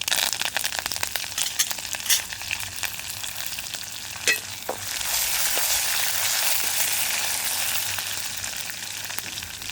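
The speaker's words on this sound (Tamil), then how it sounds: "எனக்கு எண்ணெய் சூடாகிட்டுது. நான் கடுகு சேர்க்குறேன்." Mustard seeds crackle and pop in hot oil with fennel seeds and curry leaves, with a stirring scrape early on, then a steady loud sizzle building up, close by and without talk.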